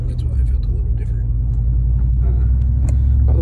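A car with a 6L80 automatic transmission drives at wide-open throttle with torque converter clutch lockup engaged, giving a steady, loud low engine rumble and drone throughout, with a voice talking over it.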